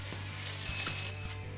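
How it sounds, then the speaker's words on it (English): Breakfast soup stirred in a pot after thyme, salt and pepper go in, with a steady low sizzle and a few soft scraping knocks of the spoon against the pot, close and alone. "we'll give it a stir"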